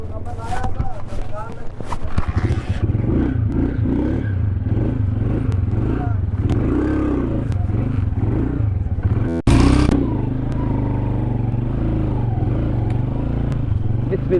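A motorcycle on a Kashmir bike tour rumbles along at the start of a ride, its engine steady under clattering and scraping road noise, with a sudden jolt partway through while someone talks over it.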